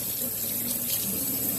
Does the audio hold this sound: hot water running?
yes